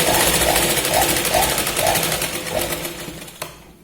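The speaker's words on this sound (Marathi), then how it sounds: "यावरती आपल्याला दाब शिलाई लावून घ्यायची मेन फॅब्रिकला." A sewing machine runs steadily, stitching the main fabric of a boat-neck blouse with a lined yoke strip, a fast even whir with rhythmic pulses that slows and stops near the end.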